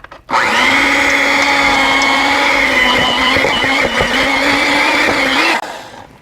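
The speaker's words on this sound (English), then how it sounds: "Now what I'm going to do is use my beaters and beat that up." Electric hand mixer beaters whirring through New York style cheesecake batter in a bowl, a loud, steady motor whine that starts abruptly and runs for several seconds before winding down.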